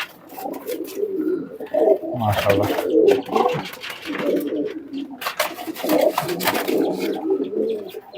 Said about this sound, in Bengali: একই জেনারেশনের সালেরা কবুতর।